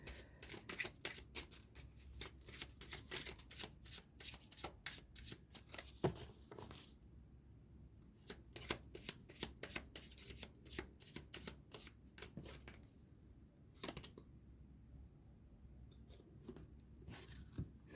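A Healing Crystals oracle card deck being shuffled close by, with quick bursts of riffling and clicking cards separated by short quiet gaps.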